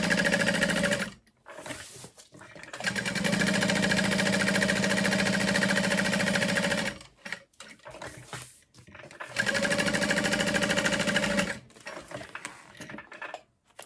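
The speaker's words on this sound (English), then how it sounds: "I'm gonna lay my slip pocket into place and sew it down." A sewing machine stitches down a slip pocket on a Zenaida backpack in two long, steady runs of rapid needle hum, separated by short pauses and brief adjustments, close and fairly loud.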